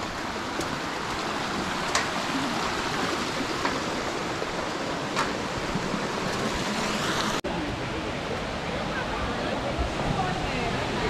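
Florence Falls in Litchfield, Northern Territory, gives a steady, loud rush of falling water that fills the whole scene evenly from start to finish, with people talking faintly under it.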